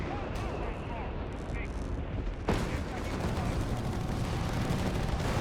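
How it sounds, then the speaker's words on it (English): Artillery fire in the war strategy game Company of Heroes 3 booms and rumbles continuously, with a sharper blast partway through, heavy and dense beneath a commentator's voice. "artillery fire again here"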